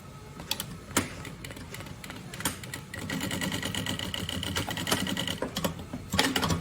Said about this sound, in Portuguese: E vou fazer agora aqui uma costura à beirinha.